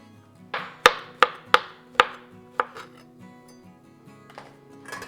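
A knife slicing vegetables into chunky slices on a cutting board, with about six sharp, evenly spaced chops close by, followed by a softer knock.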